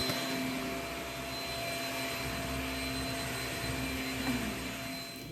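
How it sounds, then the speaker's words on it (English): Vacuum cleaner running steadily in a living room, a loud continuous whine and roar with no pauses and no voices. "pull stuff out and just vacuum around as much as possible"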